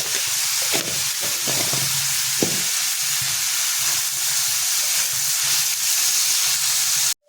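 Onion and tomato frying in a pan for egg bhurji, a steady close sizzle with a few stirring scrapes early on, continuous and fairly loud until it cuts off at the end.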